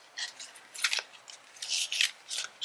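A deck of oracle cards is gently shuffled, giving soft, crisp papery riffles and rubs in short irregular bursts, close and fairly quiet.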